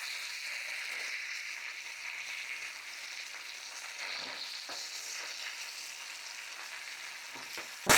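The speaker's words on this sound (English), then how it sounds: "we got maybe a couple more flips and then the steak will be done." A steak frying in a pan gives a steady, even sizzle throughout, close and moderately loud, with a couple of faint knocks near the end and no speech.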